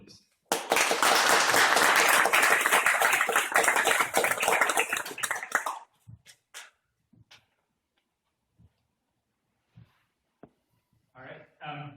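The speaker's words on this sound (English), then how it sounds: "round of applause for him, please" Loud, dense applause from a meetup audience welcoming a speaker on data visualization, sustained for several seconds before cutting off abruptly, followed by scattered faint taps and small noises.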